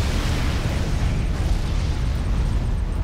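A Tiberium vapor bomb detonates in Command & Conquer 3: Kane's Wrath, a loud sustained rumbling blast with heavy low-end roar filling the whole stretch, no pauses or voices.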